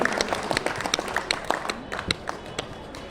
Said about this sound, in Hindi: तालियों की गड़गड़ाहट से इनका स्वागत करें,